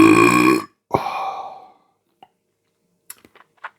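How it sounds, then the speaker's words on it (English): A loud, long burp after drinking a can of IPA beer, coming right after a short burst of another noise, followed by a few faint clicks and taps, with no talking. "you get a good burp like that"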